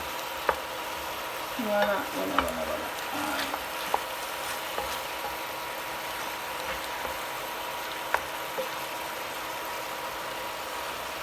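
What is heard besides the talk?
goat meat frying in a pan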